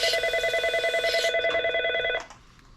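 A telephone rings with a rapid electronic trill in repeated bursts, fairly loud and close, then cuts off abruptly, leaving quiet background hum.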